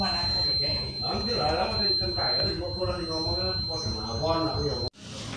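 A steady high-pitched ignition key reminder buzzer in a Suzuki Baleno sounds continuously under someone talking, stuck on, then cuts off abruptly near the end.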